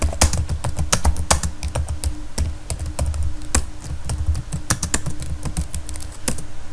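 Steady, fast typing on a computer keyboard while entering text in MS Word 2013, close and clear, with dense irregular key clicks and a few louder taps throughout.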